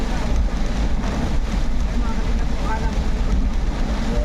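Rain falling steadily as a dense, continuous hiss, fairly loud and even from start to finish, with a low rumble of wind or distant motor mixed underneath.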